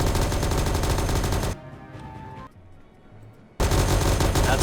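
Loud bursts of strafing machine-gun fire from a naval combat video game, with a sustained rattling barrage, a quieter lull with faint background sounds, then a sudden return of heavy continuous gunfire.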